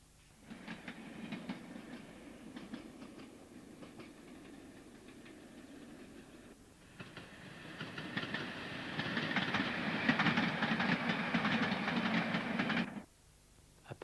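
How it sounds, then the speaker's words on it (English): A permanent way train rumbles into a station from sidings with rhythmic clickety-clack, growing louder and fuller as it passes, then cutting off abruptly near the end. "A permanent way train enters the station from brewery sidings"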